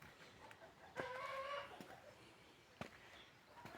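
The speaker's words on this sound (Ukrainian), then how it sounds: "А сусідські кури кричать." Chickens clucking and squawking at a moderate distance, a few short calls and one longer drawn-out cry, with faint background noise.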